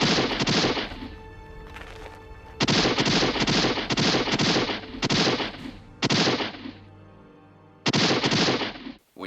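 Bursts of loud, rapid gunfire sound effects in a Neil Breen movie, several volleys separated by brief gaps, dense and up close with no talking.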